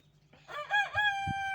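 A rooster crows once nearby, a loud rising-then-held call, with a couple of soft clucks from other chickens underneath.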